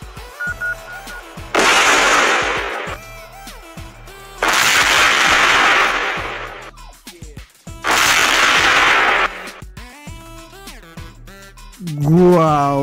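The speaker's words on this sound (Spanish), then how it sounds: "Hubieron dos explosiones separadas, ¿verdad?" Explosions in a video game burst out as loud, roaring blasts, three separate booms several seconds apart, with tonal game sounds between them.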